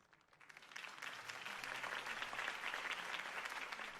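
A crowd applauds a campaign speech for Harvey Dent, the clapping swelling from quiet to a full, sustained roar of many hands, heard at a distance.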